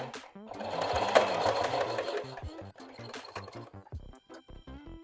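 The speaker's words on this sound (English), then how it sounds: "I'll top stitch here, make sure this is aligned" Sewing machine running in a steady fast burst while top stitching seams on a pair of jeans, then slowing into short bursts of stitching, close and fairly loud.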